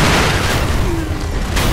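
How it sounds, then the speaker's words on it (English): Fireworks burst in the Sekiro: Shadows Die Twice video game, a dense crackling boom that rumbles loudly and continuously with a fresh pop near the end, no talk over it. "Fireworks."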